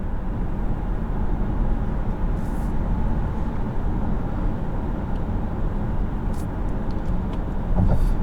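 Cabin of a 2022 Volvo XC60 T8 Recharge plug-in hybrid accelerating hard in full electric mode, a steady broadband road and tyre roar with a faint motor hum, no engine note and no talk.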